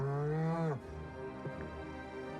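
A cow in the Orwell's Animal Farm video game lets out a long, loud, low moo that rises and then drops off sharply, followed by a softer, quieter lowing sound.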